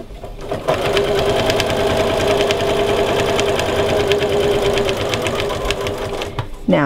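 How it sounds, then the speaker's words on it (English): A sewing machine runs steadily for several seconds, stitching binding along a placemat edge with a continuous mechanical whir and rapid needle rhythm, starting and stopping cleanly. "I'm going to sew along this long edge, or this other edge of my placemat"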